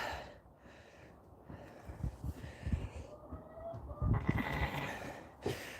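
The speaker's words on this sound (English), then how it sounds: "These are Gotland sheep." Gotland sheep on a farm give a few short, snorting bleats and breathy calls at close range, with handling noise and movement around them.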